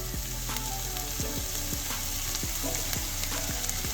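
Steady, close sizzling and crackling of golden chanterelle mushrooms with garlic and basil paste frying on low heat in a pan, with faint occasional stirring clinks.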